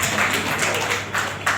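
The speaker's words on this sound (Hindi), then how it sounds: "तालियों से साबित करो कि जिंदा हो" Audience applause at a Rotary Club event in Varanasi, a steady close crowd clapping throughout with scattered sharper claps, fairly loud.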